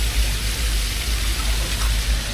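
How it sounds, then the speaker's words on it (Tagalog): Rain falling outside at a garden resort in Manila, an even, close wash of hiss with a low rumble underneath, steady throughout with no talk. "umuulan."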